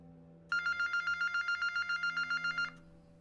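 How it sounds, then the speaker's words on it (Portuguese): A telephone rings in one rapid, trilling burst of about two seconds over a low steady hum, with no voices. "Só falta o telefone tocar"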